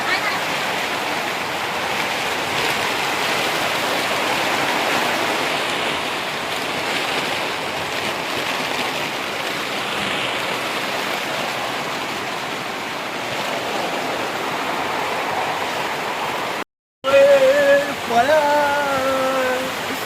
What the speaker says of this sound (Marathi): तर मित्रांनो खूप जोरात पाऊस येतोय